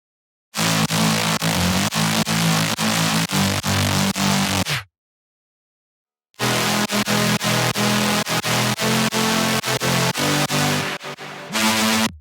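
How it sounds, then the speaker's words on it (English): Layered synths pulse loudly in rhythmic chords, cut by a sudden gap of silence before the dense electronic drop resumes. "all the synths together sound like this from the drop beginning"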